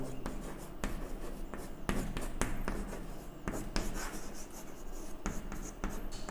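Pen scratching out a maths solution on paper in a Class 10 polynomials lesson, close-up scribbling strokes with sharp taps and pauses between words, continuous and moderately quiet.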